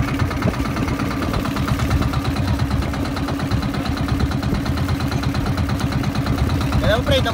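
The engine of a small fishing boat out at sea runs continuously with a close, loud, rhythmic chugging throb that holds steady throughout.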